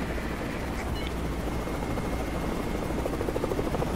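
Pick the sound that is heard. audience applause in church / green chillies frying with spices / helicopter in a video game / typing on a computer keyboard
helicopter in a video game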